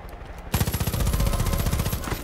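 Assault rifle fire in Far Cry 5 erupts after a half-second of quiet into a dense, loud automatic burst of rapid rounds that continues steadily to the end, with no talking.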